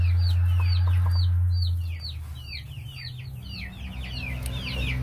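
A flock of meat chickens clucking and chirping in quick, overlapping calls, with a low steady hum underneath that fades partway through.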